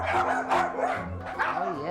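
Dogs aboard the Queen Mary 2 cruise ship give short barks and yips, heard close by and mixed in with ongoing conversation throughout.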